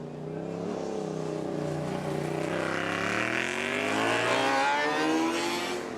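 A Formula Student race car from the Hull team, fitted with a rear steel space-frame hybrid chassis, drives a lap at a UK competition. Its engine holds a steady, loud drone whose pitch climbs as it nears and passes.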